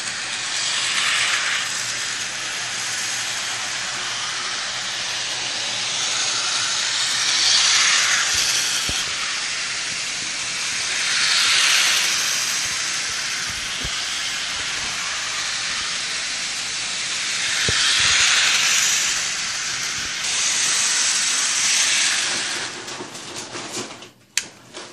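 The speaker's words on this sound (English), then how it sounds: "I'm going to have some shots of Thomas steaming along the tracks." Rhythmic hissing puffs of a Bachmann Thomas and Friends model steam train chugging along a track, with repeated swelling bursts and a faint mechanical rattle underneath.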